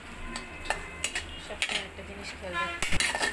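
Onion and chopped garlic stir-fried over high heat in a pan for beef sizzling, with repeated sharp clinks and scrapes of a utensil against the pan over a steady low sizzle.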